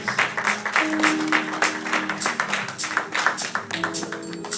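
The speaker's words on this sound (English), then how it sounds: "Come on, get a Lord a hand clap of praise." A church congregation claps in praise during a sermon, a lively roomful of hands in uneven rhythmic bursts with music or organ tones held underneath.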